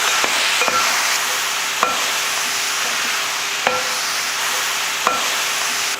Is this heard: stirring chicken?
yes